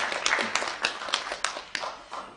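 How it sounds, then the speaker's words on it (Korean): Lecture audience claps in a sparse, uneven way, with distinct individual hand claps spaced irregularly rather than a full ovation. The clapping is fairly quiet and close. "박수 한번 주세요."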